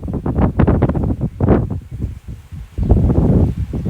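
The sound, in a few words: strong gust of west wind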